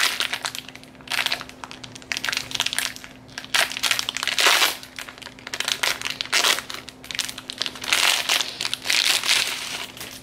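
Plastic packaging around a curly hair bundle crinkles and crunches in repeated bursts while being torn open, close up and fairly loud with no talk.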